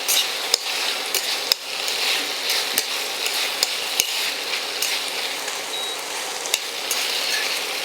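Steady sizzle of garlic frying in oil in a hot pan, with sharp clicks and taps of a utensil stirring against metal scattered throughout.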